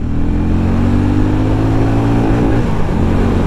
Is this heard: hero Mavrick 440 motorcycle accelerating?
yes